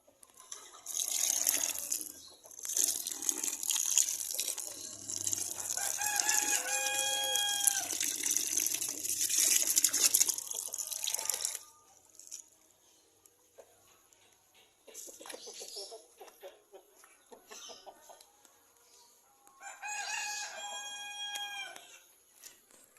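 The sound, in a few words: free-range village chickens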